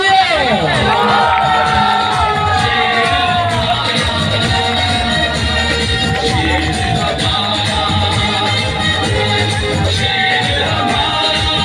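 A large crowd cheers, whoops and claps continuously for a candidate arriving at a PML-N election campaign rally in Kasur, Pakistan; the noise is loud and dense throughout, with shouts rising above it.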